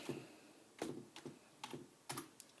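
Quick light keystrokes on a computer keyboard while entering a terminal command, a handful of soft clicks in small clusters, close and quiet with nothing else audible.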